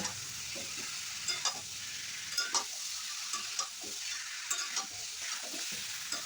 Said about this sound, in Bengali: এবার আমি আঁচটা মিডিয়াম রেখে চিকেন আর আলু ভেজে নেব